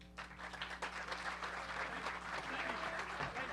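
An audience applauds to welcome historian Wayne Motts at a Sacred Trust talk, a steady indoor wash of many hands clapping for several seconds at moderate volume.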